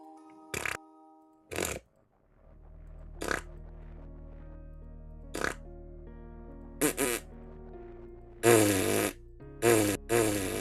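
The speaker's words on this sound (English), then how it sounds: "The gaseous farts." Cartoonish fart sound effects in a fan-made FNAF game, sharp loud bursts, some drawn out and wobbling, going off at irregular intervals over a low steady hum.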